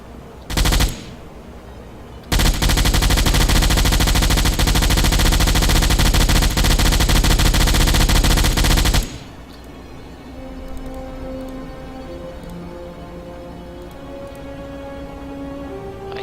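Deck gun fire from a submarine in Silent Hunter 4: one short burst, then a sustained, loud rapid volley lasting several seconds, ending abruptly and giving way to quiet game ambience.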